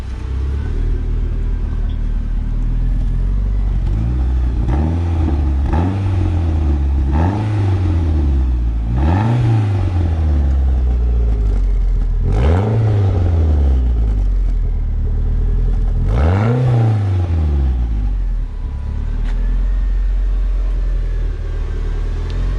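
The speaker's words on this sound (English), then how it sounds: "You want to give it a couple light revs?" A Mitsubishi Galant VR-4 engine idles and is revved lightly several times, each rev rising and falling back to a steady rumble, heard up close.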